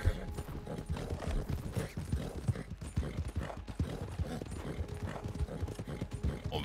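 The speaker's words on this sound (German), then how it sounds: "Das Pferd ist, wir haben ein gutes Pferd, ne?" Horse hooves clip-clop in Red Dead Redemption 2 Online as a fast, stamina-strong horse runs in a steady rapid rhythm. The sound stays moderately quiet with faint game ambience underneath.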